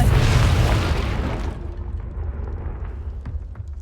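A single loud fiery blast from the Confringo spell in Hogwarts Legacy, booming at once and then fading into a low rumbling tail over a few seconds, with no voices over it.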